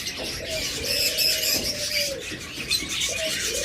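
A pair of pet birds in a cage, such as lovebirds, forpus, budgerigars, cockatiels or finches, give repeated high chirps and squeaky calls up close, with short pauses between bursts.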